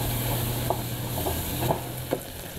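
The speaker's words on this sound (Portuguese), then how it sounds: "Ó, refogou os temperos" Chopped garlic and a small onion sauté in a pan, a dense continuous sizzle with a few light stirring taps.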